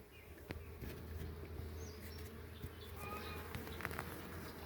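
Honeybees swarming in and around a wooden hive box, a dense continuous buzzing drone heard close and fairly quiet, with a few brief knocks and no speech.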